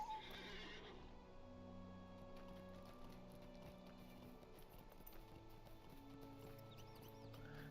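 A horse whinnies in The Lord of the Rings Online, followed by steady clip-clop hoofbeats of the mount riding along, faint beneath tonal game music.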